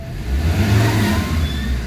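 A Ford Ranger 3.2 pickup engine with low power and engine vibration revs up close, a loud low rumble rising and holding briefly before easing back down.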